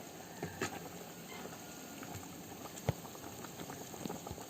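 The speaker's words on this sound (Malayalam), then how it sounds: "പുളി ഇട്ടൊന്ന് നന്നായിട്ട് തിളക്കണം." Tamarind-soured Kerala toddy-shop curry liquid, meant for catfish heads, boils steadily in a pot with a soft continuous bubbling patter and occasional small pops, close by and fairly quiet, with no talking.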